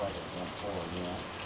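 A rainstorm pours down steadily, dense hissing rain falling on surfaces, close and constant for a brief moment.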